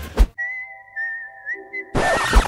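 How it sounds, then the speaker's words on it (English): A person whistles a short sustained tune at close range, bracketed by brief rustling noise at the start and a loud burst of noise at the end. "Whistling."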